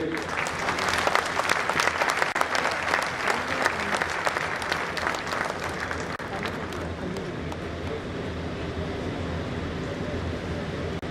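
Audience at a national small-industries convention in Nagpur claps in a dense, sustained round of applause that gradually softens and thins toward the end.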